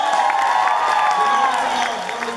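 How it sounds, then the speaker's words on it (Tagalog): Congregation at a church healing service anniversary gathering applauding, a steady wash of clapping and cheering crowd noise that holds for the whole stretch, with voices mixed into the din. "At ang lahat ng pinupuspos ng pagpapala ng Diyos, pumalakpak!"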